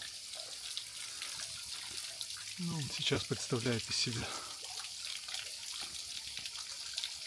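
Thin trickle of a weak waterfall near Budva, Montenegro, a steady broadband water hiss running throughout while someone talks briefly over it midway.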